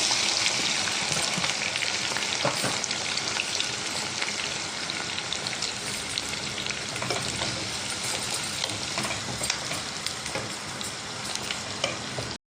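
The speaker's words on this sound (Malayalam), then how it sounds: "ഇതിൽ നമുക്ക് ഒരു 1/4 കിലോ വെളുത്തുള്ളി ഇത് നമുക്കൊന്ന് ഒരു ചുവന്ന കളർ വരെ മൂപ്പിച്ച് എടുക്കാം" A quarter kilo of garlic fries in hot oil for Kerala lemon pickle, giving a steady, dense sizzle and crackle throughout with occasional stirring scrapes and no talking.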